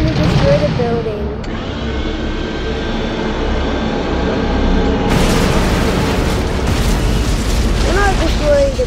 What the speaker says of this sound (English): And now he's finally gonna destroy the building.